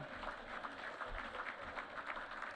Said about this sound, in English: you can clap a little bit louder than that